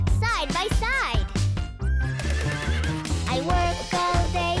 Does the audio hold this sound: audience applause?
no